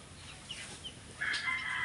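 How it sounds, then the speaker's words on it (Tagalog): Faint chickens clucking at a distance, with a few soft calls and one brief, drawn-out squawk at the end. "Ayan pala mga manok"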